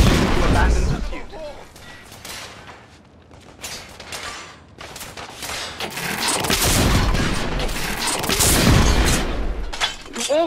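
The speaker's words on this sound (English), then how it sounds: "We are witnessing heavy artillery fire at the moment." Loud booms and crashing blasts of heavy artillery fire and explosions in the video game The Order: 1886 roll through in bursts, with shattering debris and a voice shouting amid the din.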